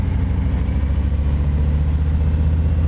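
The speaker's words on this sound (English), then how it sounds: "That sounds like a Harley Davidson." A Harley-Davidson motorcycle with non-stock pipes idles close by, a loud, steady low-pitched rumble with an even pulsing beat and no talking.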